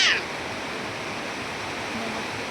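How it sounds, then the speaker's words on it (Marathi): Heavy rainwater flowing down a street, a steady, broad rushing wash that stays even and fairly close for the whole short stretch. "हे बघा इथे रस्त्याने किती पाणी वाहतंय"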